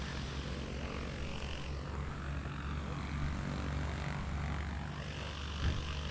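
A Cessna 185 with a 285-horsepower engine at a heavy touring STOL competition, its propeller drone steady and moderately distant, holding constant for the whole stretch with a faint swell near the end.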